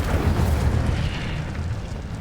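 A spell being cast in the Hogwarts Legacy video game: Incendio, a fire spell, erupts as a loud, continuous fiery roar and rumble that holds steady for a couple of seconds with no voices.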